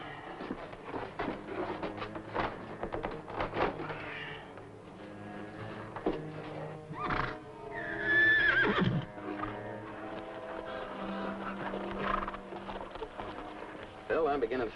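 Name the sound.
horses neighing and hooves clopping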